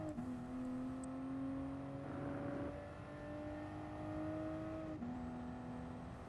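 A 2020 Toyota GR Supra racing in Gran Turismo Sport, its engine note climbing steadily under full throttle, with a brief gear change before the pitch rises again, loud and close with no voices.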